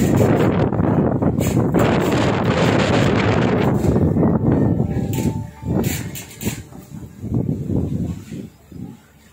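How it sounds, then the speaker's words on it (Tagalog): Strong wind from Typhoon Odette roars as a dense, broadband rush for the first half, then drops to gusty bursts with quieter gaps, close and buffeting the microphone. "Ganun lang sa hangin, sa lakas ng hangin."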